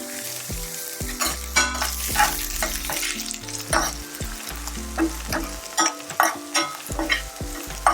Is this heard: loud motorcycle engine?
no